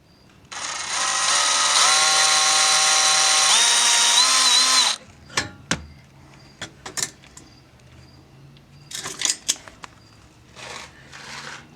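A power drill whirs loudly for about four seconds while drilling a hole for an O2 sensor, its pitch wavering slightly, then cuts off and is followed by scattered sharp clicks and clanks of handling.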